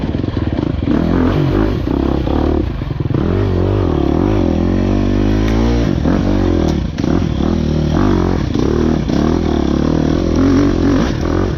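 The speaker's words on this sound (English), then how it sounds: "I was able to downshift into a lower gear and kind of get the bike moving" An enduro dirt bike's engine labors loud and close in a low gear, revving and bogging in uneven bursts with clattering and scraping as it claws up a rocky hill during a race.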